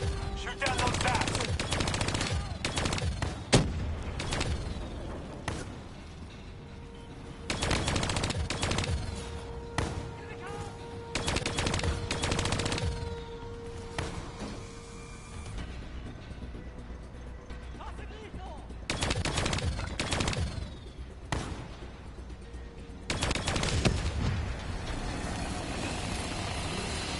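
Video game gunfire crackles in rapid, dense bursts while shooting down bats, with repeated loud volleys separated by brief lulls, mixed with mechanical effects and talk over the top.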